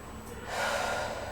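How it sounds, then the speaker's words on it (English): One deep breath during a yoga crescent lunge, a soft inhale swelling into a louder, airy exhale, close and alone. "Take a couple of breaths here."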